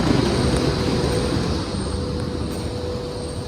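A high-speed train from Kunming to Chongqing rumbles nearby with a steady, loud mechanical roar and a faint high whine, no voices over it.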